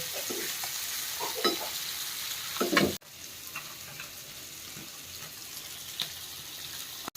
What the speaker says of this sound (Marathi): 2 मिनिटात आपल्या मुश्या फ्राय झालेल्या पण आहेत. मस्त लाल लाल क्रंची क्रंची.